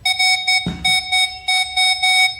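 A Nokta Double Score or Minelab X-Terra Pro metal detector gives loud, bright electronic tones in repeated short pulses, interrupted by one dull thump; no speech.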